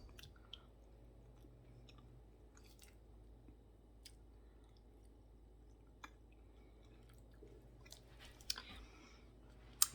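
Palmini mashed potatoes with bacon and cheddar are chewed close to the microphone. The faint, soft, wet squishing carries a few sharper smacks and clicks toward the end.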